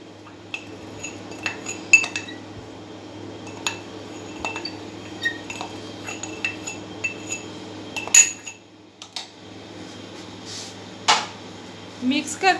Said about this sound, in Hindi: अब इन चीज़ों को हम मिक्स करते हैं।